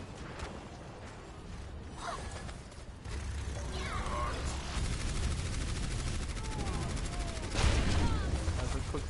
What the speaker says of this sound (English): those shields aren't going to last very long with an Arisa and a Bastion firing away on the cart